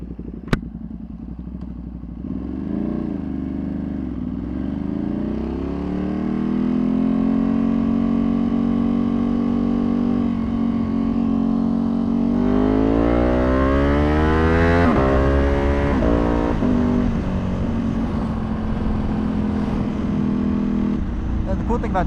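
Tuned Ducati Panigale V2 motorcycle on a street ride, engine revving through rising and falling gear pulls with a loud close exhaust drone that climbs sharply midway, continuous for the whole stretch.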